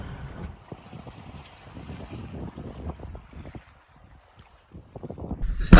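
A sailboat moving in light wind on the South Atlantic after leaving St Helena, with soft wind rumble against the microphone, gentle water sloshing and faint creaks, quiet and steady, with a louder gust at the end.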